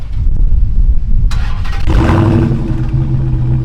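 A Dodge Challenger SRT Hellcat engine cranks briefly, then catches and settles into a steady, rumbling idle, close and loud.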